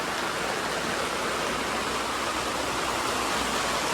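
Heavy rain suddenly pours down during a wake in Bicol and blows in under the shelter, a loud, dense, unbroken hiss of downpour and splashing water with no voices.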